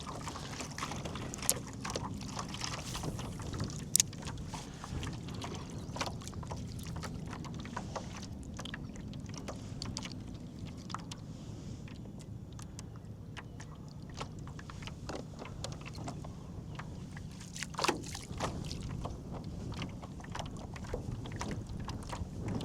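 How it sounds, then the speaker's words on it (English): Wind picks up over open water around a fishing kayak in the reeds, a steady, rushing wind noise with microphone buffeting and occasional faint knocks and splashes from the boat, with no talking. "Wind's starting to pick up though for me."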